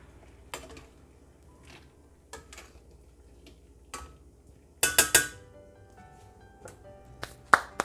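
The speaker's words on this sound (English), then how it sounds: "My potatoes are boiling. Let's give those a stir." Sparse metallic clinks and taps of a utensil stirring boiling potatoes in a pot, with a quick cluster of scraping knocks midway and a sharp clink near the end.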